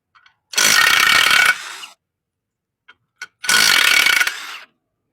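An impact wrench on a 2012 Jeep Wrangler Unlimited Sahara engine spins out 17mm flywheel bolts in two loud, buzzing bursts of about a second each, with small clicks between them, close and alone.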